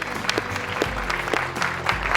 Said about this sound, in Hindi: तालियों के साथ उनका स्वागत हो गया।